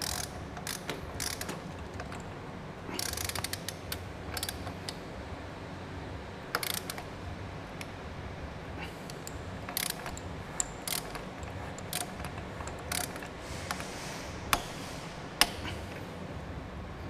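A torque wrench tightens bolts on a Yamaha 125 motorcycle engine, giving quiet ratcheting clicks and sharp metallic ticks in irregular bursts over a faint background, with no talking.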